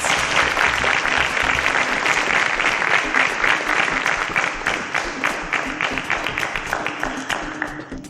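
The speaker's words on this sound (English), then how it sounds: "A round of applause as all our contestants got it right." Studio audience of a TV quiz show breaks into warm applause that starts full and dense, then thins toward the end into separate claps, with some voices faintly mixed in.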